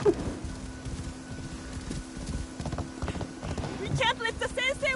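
Horse hooves pound steadily in Assassin's Creed Shadows, the mount carrying a heavy load, a busy clip-clop running under talk and game noise, with a short burst of bird-like chirping near the end.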